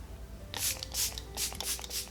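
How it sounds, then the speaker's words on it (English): Close, bright hissing bursts of e.l.f. Dewy Coconut Setting Mist sprayed for makeup, about five quick pumps in uneven succession, with faint background hum. "For setting spray, I'm going to use the Dewy Coconut Setting Mist by e.l.f."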